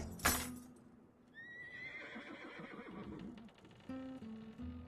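A horse whinnies in a long, high, wavering neigh after a sharp noise, followed by hoof clops and more squeals.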